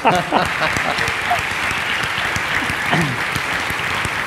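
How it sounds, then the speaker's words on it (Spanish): An audience in Spain applauds during an interview with the folk group La Ronda de Boltaña, with dense, loud clapping throughout and voices talking over it at the start and again near the end. "un aplauso con la foto de Voltaña"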